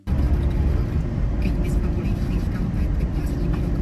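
A camper van driving on a road in Slovakia toward a campsite near Budapest, steady low engine and road rumble filling the clip throughout, with a voice talking over it.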